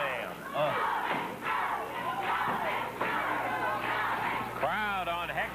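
Arena crowd at a 1979 Memphis wrestling match cheers and shouts steadily for wrestler Hector, a dense roar of voices that swells and falls throughout, with an announcer talking over it.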